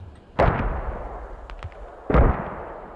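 Mortar rounds landing near a radio position in a video game, two loud, close heavy thumps about two seconds apart with a few lighter cracks between them.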